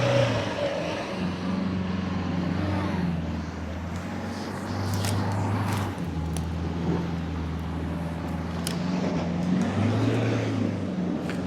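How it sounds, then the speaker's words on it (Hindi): A Toyota Hilux Black Edition off-roading in 4LO with diff lock engaged, its engine held in power mode, drones and revs steadily in a continuous low rumble with small surges, fairly close, with no talking. "राउंड 3 अब पावर मोड के अंदर में गाड़ी को डाल दिया ना भाई"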